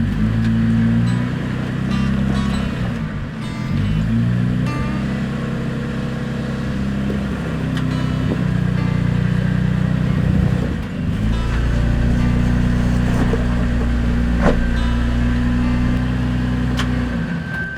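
A modern Toyota truck engine revs steadily while crawling off-road through rough terrain, a loud, continuous drone with rising and falling pitch and brief dips as the throttle is worked, close and alone.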